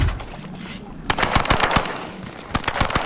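Automatic turret fire from the video game Earthfall: rapid bursts of mechanical gunfire crack out in quick clusters, loud and close, with a lull before the shooting resumes.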